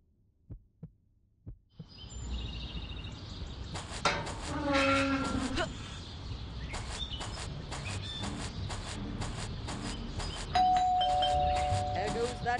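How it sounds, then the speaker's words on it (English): Doorbell in the video game Scary Teacher 3D chimes amid busy game audio, with a few sharp knocks at the start, layered electronic tones and effects, and a sustained ringing tone near the end. "There goes that stupid bell again."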